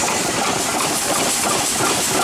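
Antique steam engines and gas engines, about ten running at once at a steam show, including a steam turbine, a Sturdivant blower engine and an anchor winch, make a dense, steady mechanical roar and hiss nearby.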